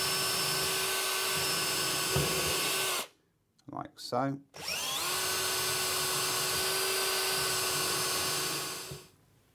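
A power drill whines steadily as it bores through the centre muntin of a frame fitted to a wall unit, pausing briefly while someone speaks, then running again for several seconds before stopping.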